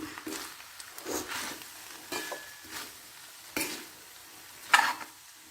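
Cooked ration rice mixed with coriander leaves and Kashmiri chili powder is stirred in a hot pan: a quiet sizzle under several separate scraping, tossing strokes of the spoon, the last one sharper and louder.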